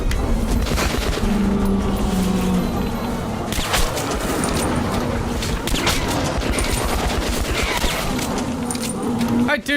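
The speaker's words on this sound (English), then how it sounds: "I do like this shotgun." Loud, dense gunfire from a shotgun and other weapons in Metro Last Light, with repeated sharp blasts over a constant battle din and game voices talking throughout.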